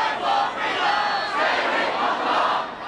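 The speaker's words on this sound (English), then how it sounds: "Police fire tear gas into a crowd." Large Hong Kong protest crowd shouting and roaring together as police fire tear gas into it, a dense, sustained wall of voices with swelling cries throughout.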